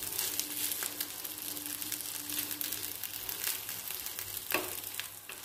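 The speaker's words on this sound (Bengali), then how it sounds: "সেইভাবে ধীরে ধীরে আপনারা এই ভুট্টাটাকে বাটারের সাথে ভালো করে মাখিয়ে নেবেন।" Sweet corn kernels cook in butter in a pan, giving a soft, steady sizzle broken by light scraping and stirring sounds, fairly quiet and with no talking.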